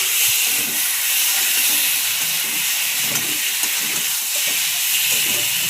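A spice paste frying in a pan for an egg curry with lime gives a loud, continuous hiss and sizzle with small crackles, steady throughout and close by.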